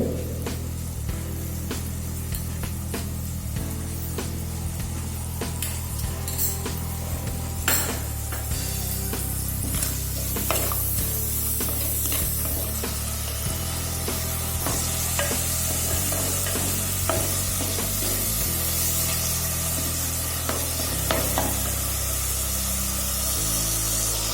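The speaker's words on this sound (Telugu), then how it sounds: "నెక్స్ట్ ఇప్పుడు అల్లం వెల్లుల్లి పేస్ట్ వేద్దామండి" Ginger garlic paste frying in a clay pot for Guntur mutton gongura, a loud steady sizzle with repeated stirring scrapes and knocks throughout, close and continuous.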